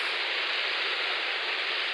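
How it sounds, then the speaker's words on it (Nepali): Steady rain falls outdoors in a hilly village near a stream, a dense, unbroken hiss that fills the whole moment with no talk over it. "यता पानी पर्दैछ होइन।"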